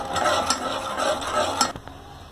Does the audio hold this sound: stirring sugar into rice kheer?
yes